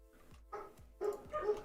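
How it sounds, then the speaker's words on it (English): Dogs barking nearby: a handful of short, sharp barks coming in a quick irregular run over under two seconds, moderately loud. "Dogs are barking"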